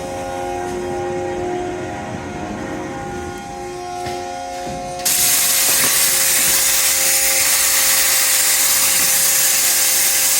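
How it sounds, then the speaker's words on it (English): A VPX HP waterjet cutting machine runs with a tonal hydraulic whine, then bursts into a loud, steady broadband hiss as cutting starts at 17,500 PSI, the roar holding constant to the end. "We're gonna cut right now."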